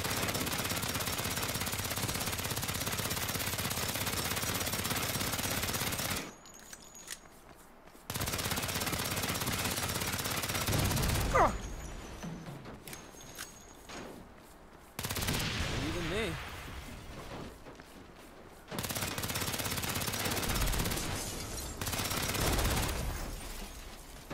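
Gunfire from the 2022 Saints Row video game, with rapid automatic bursts fired at Marshall vehicles and a tank, arriving in several loud, dense stretches separated by brief quieter gaps.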